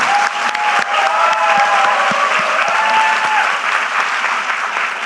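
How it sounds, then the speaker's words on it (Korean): Audience at a presidential town hall meeting in Jeju, South Korea, breaks into loud, sustained applause with scattered sharp claps, filling the whole stretch without talk. "박수로 더 크게 쳐주세요."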